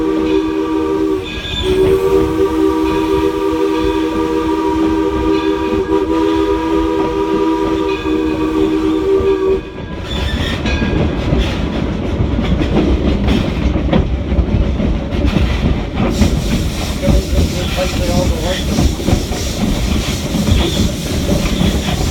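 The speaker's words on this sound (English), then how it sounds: "Now the locomotive pulling us today is the Edison." The Edison, a 1932 Ford Motor Company-built locomotive, pulls a passenger train near Smith Creek Station, its horn blowing long and loud before giving way to a steady rumble and rhythmic clatter of wheels on rails.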